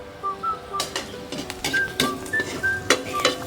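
Food is sautéed (ginisa) in oil in a pan, giving a low frying sizzle under repeated sharp metal clinks and scrapes of a utensil against the pan, along with faint whistle-like tones in the background.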